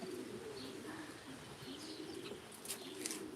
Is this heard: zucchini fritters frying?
no